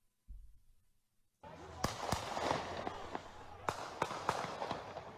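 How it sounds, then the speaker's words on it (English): Several sharp gunshots from a second shooter, not the rifle, crack out irregularly in recorded outdoor footage, loud and distinct over a constant noisy background that begins after a brief low thump. "Now, you hear those gunshots? That's not that rifle. That's somebody else shooting."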